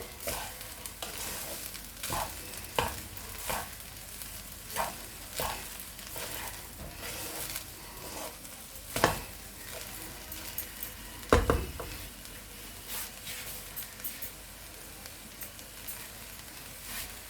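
Rice being stirred and fried in a pan for a Bengali coconut kasundi rice, with repeated scraping spoon strokes and clinks against the pan over a steady low sizzle, close and moderately loud, with no voices.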